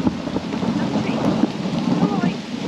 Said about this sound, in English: after being caught out in that downpour